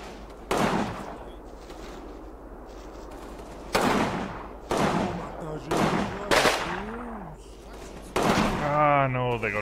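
Rifle and BAR automatic fire in the WWII tactical game Combat Mission, Riva Ridge battle, heard as several sharp bursts spread across the clip, the later ones followed by a rising whistle and a ringing tonal sweep.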